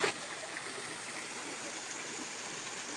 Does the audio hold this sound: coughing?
no